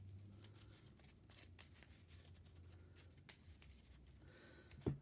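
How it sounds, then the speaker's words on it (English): Quiet riffling and rustle of a deck of playing cards being shuffled for a Marvel Champions game, several soft ripples close by, ending in a sharp tap. "Shuffling."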